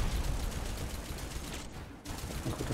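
Gunfire in the first-person shooter video game Scathe comes as dense, rapid bursts of shots, a fairly faint but continuous barrage with a brief gap near the end.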